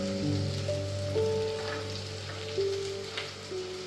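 Carrots drop into a hot pan for a Kerala-style vegetable soup, giving a steady, soft sizzle under faint clinks and a low background hum, with no voice.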